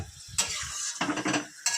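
Spiced masala batter is sautéed in a pan, heard as short bursts of sizzling and scraping stirs separated by brief quieter gaps, close by.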